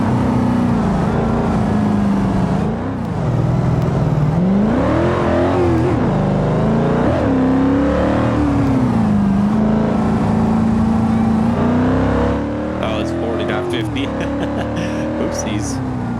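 A car driven in the BeamNG video game, its engine droning loudly and continuously, rising and falling in pitch as it accelerates and eases off, with brief scraping clatter near the end.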